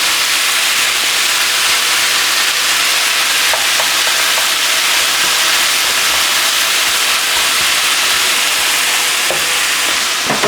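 Ground beef browning in a hot pan, sizzling as a loud, dense, constant crackling hiss that fills the whole stretch with only faint occasional clicks.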